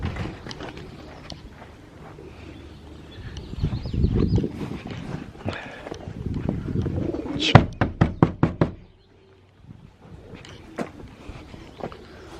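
Racing pigeons coo steadily in a loft full of birds, mixed with chirps and a quick burst of sharp knocks or wing claps near the middle, fairly close and moderately loud.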